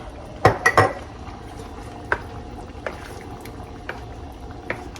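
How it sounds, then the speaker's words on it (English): Meat sauce simmers in a pot after water is poured in for a Sunday macaroni bake. A few sharp metal clanks of utensil against pot stand out over a low, steady bubbling hiss. "I'm gonna let this simmer for a little bit"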